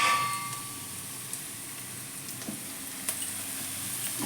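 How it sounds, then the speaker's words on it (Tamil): Vegetables for rava upma sauté in a pan, giving a steady soft sizzle throughout with a few light metallic clinks of a utensil against the pan. "நல்லா கலர்ஃபுல்லாக வதங்கிக்கிட்டு இருக்கு."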